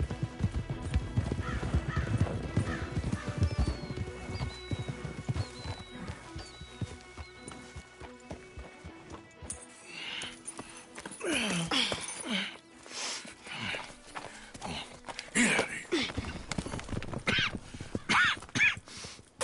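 Horses in Red Dead Redemption 2 clop along with steady hoof beats and let out repeated whinnies, with outdoor game ambience building louder in the second half.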